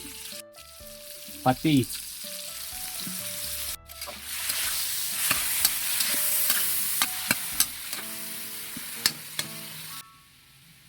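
Garlic, onion, tomato and tofu sauté in a pan with a steady, loud sizzle, broken by a few sharp utensil clinks and stirring scrapes; a single short word is spoken early, and the frying stops near the end.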